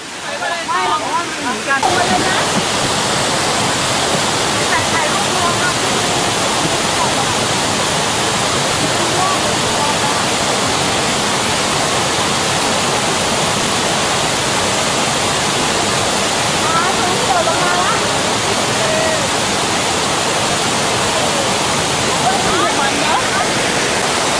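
Thi Lo Su waterfall roars with loud, continuous rushing water, a dense unbroken wash of sound from close by that begins abruptly and holds steady throughout.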